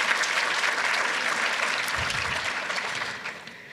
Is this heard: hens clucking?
no